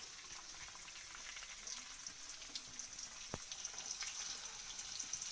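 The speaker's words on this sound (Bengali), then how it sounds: "তো এরপর আমি বিনসটা ভেজে নেব" Green beans frying in a pan for mixed fried rice, a faint, continuous sizzle with soft crackles and one sharp tap partway through.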